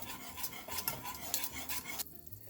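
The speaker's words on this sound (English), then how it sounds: "Give this a stir." A spoon stirs sugar-free pumpkin spice syrup heating in a pot, giving soft repeated scraping and swishing strokes against the metal with a faint sizzle underneath, fairly quiet and close.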